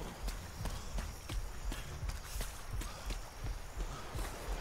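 Video game character running, a quick steady patter of footsteps repeating evenly throughout, close and clear with a faint ambient background.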